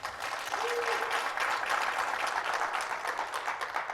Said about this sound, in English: If we could have one more round of applause for them